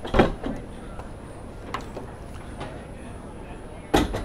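A side door on a Pearl 72 yacht clunks and slides open with a few soft knocks and rattles in a quiet space, followed later by another thud.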